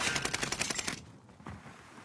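Rapid automatic gunfire in a video game, a quick burst of close, sharp repeated shots lasting about a second, followed by a couple of fainter pops.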